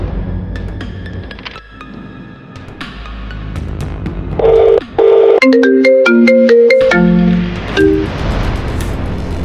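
A phone ringtone chimes through a call attempt: sparse tones at first, then a bright, loud melodic run of distinct notes in the middle, fading into a lower, quieter tone afterward.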